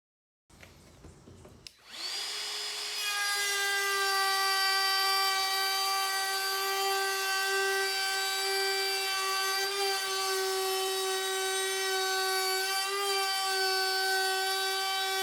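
A cheap Ryobi router with a round-over bit cuts along the outside edge of a wooden board, starting after a brief click and then holding a loud, sustained, tonal whine while the bit chews steadily through the wood.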